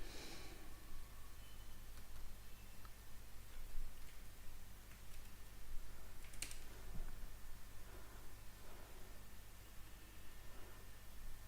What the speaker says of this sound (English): So let me try typing it again.